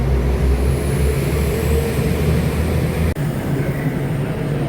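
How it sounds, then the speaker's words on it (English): A train pulling away from a station platform, a loud continuous rumble and rolling drone of wheels and engine with a brief clunk partway through. "There goes my train."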